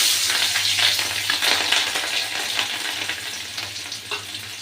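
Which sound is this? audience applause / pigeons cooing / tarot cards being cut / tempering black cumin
tempering black cumin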